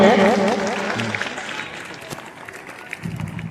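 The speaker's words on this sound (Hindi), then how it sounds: "जोरदार तालियां होनी चाहिए हमारे परिसर में" An audience at a school campus function applauds in a dense wash that fades out, with a voice speaking over it.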